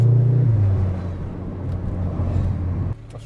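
A 2.0-litre EA888 turbo VW Golf R MK7.5 pulls away under acceleration, a loud low engine drone with a falling tone at first, then a steady rumble that drops off abruptly near the end.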